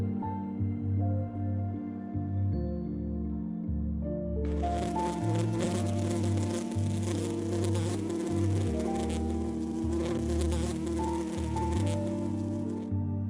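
Honey bees buzzing densely at a traditional bee farm in Hatta, UAE, a steady close swarm hum that swells loudly after a few seconds and holds over a low musical bed.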